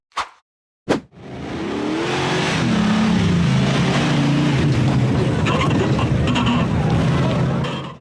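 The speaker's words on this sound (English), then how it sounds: "The gray Polaris RZR accelerated up the rocky trail" A gray Polaris RZR off-road vehicle climbing a rocky trail: two sharp knocks, then the engine roars up into a loud, sustained, close revving drone that holds steady to the end.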